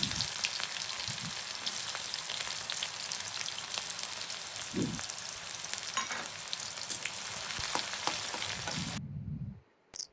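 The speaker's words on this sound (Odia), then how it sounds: "ଫୁଟିଲା ପରେ ପିଆଜ ଆଡ୍ କରିବା" Onions frying in hot oil with sugar and whole spices for a potato, pea and paneer curry, a steady close crackling sizzle with a few stirring knocks, cutting off abruptly near the end.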